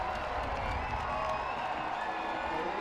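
Stadium crowd at a soccer match cheering and applauding in a steady, dense roar that holds evenly throughout, with a hint of a commentator's voice underneath.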